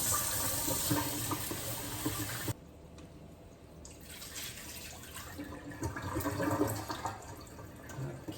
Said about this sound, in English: we're gonna give our potatoes a rinse, and then we are going to add them to the pot